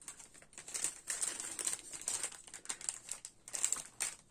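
Crinkly tearing and crumpling of a heavily taped parcel, in short bursts of rustling with brief pauses, fairly close.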